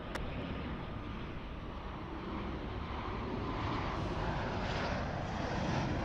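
A Qantas airliner, flight QF11, on final approach to LAX produces a steady, broad jet engine roar heard from the ground at moderate distance, growing slightly louder over several seconds.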